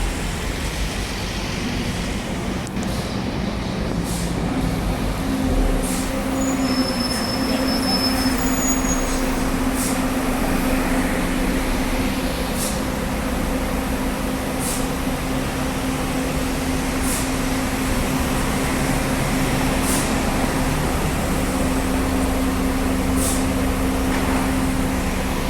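A route 48 bus, a TP 2008, pulls in to terminate, its loud, steady engine rumble and droning whine continuing close by throughout, with occasional brief squeals and clicks.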